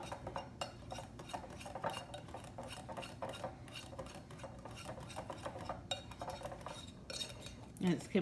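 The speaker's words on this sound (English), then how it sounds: "we're just going to whisk it till it's completely smooth" Chocolate and cream being whisked into a smooth ganache, with steady rapid scraping and clinking of a whisk against a bowl, close by and continuous, ending in a couple of louder knocks.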